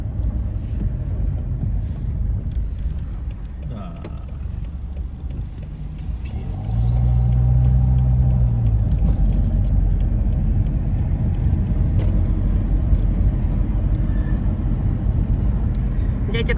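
A car drives through the streets of Cagliari, Sardinia, with a continuous low rumble of engine and road noise heard from inside, which grows louder and heavier partway through as the car accelerates.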